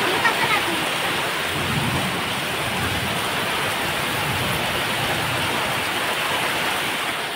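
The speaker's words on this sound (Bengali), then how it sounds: "এখন 10টার সময় বৃষ্টি শুরু হয়েছে" Heavy rain pours steadily on a courtyard and steps, a dense even hiss of falling water close by with no voices.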